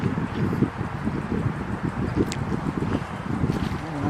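Wind blows through a forest cemetery in autumn, a steady close rushing and buffeting against the microphone with rustling leaves and faint footsteps mixed in.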